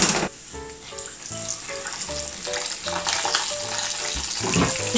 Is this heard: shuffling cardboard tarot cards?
no